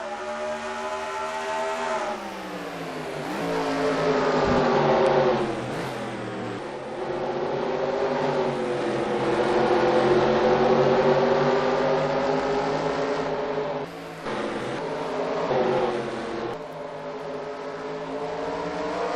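NASCAR race cars roaring off at the start of a racing video game race, a dense layered engine drone rising and falling in pitch as the pack accelerates, loud and continuous.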